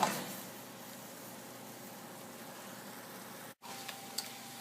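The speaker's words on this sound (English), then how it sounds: "I'm going to cook this until all the wine is pretty much absorbed and reduced down" Chardonnay wine reducing in a pan for a stuffed turkey breast gives off a steady, faint broadband sizzle that holds evenly throughout, with one brief dropout near the end and a couple of tiny pops.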